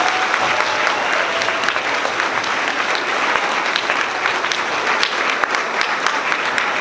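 Sustained applause from a crowd at an elementary school 5th grade celebration, dense clapping that holds steady throughout with a few faint voices mixed in.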